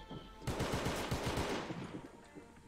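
Rapid automatic gunfire from a competitive video game shooter, a sustained loud burst of closely spaced shots lasting over a second, then trailing off into fainter game noise.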